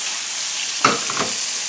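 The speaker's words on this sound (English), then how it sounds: "you just want to cook this zucchini till it starts to get lightly brown" Zucchini and chorizo sausage frying in a pan, an even hiss of oil with one brief stir or scrape near the middle.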